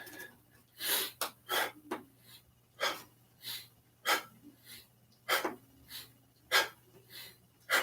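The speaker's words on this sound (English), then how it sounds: "this short breathing will activate the yang qi anyways, which is good for the heart" Short, sharp breaths are pushed out in an irregular series during a qigong class, each one a close, breathy puff separated by brief pauses, with no talking.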